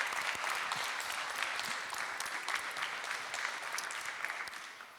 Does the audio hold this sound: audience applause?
yes